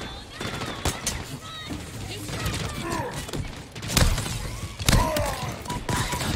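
Pistol and other weapon fire from the sci-fi shooter Halo Infinite, a busy stretch of sharp shots and thuds with stronger blasts near the four- and five-second marks, mixed with game effects.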